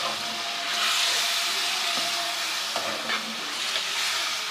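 Paste of two medium tomatoes with garlic frying in a pan for kaleji masala, a close, continuous sizzle with a few soft stirring scrapes and clicks scattered through, no talking.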